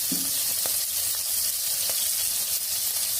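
Shrimp frying in hot oil with ginger and garlic sizzles loudly and continuously up close, with a few faint ticks of a spoon against the pan.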